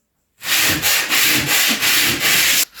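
Wood being sanded by hand, a steady run of loud, close rasping strokes with brief dips between them, about half a dozen passes in a row with no talking.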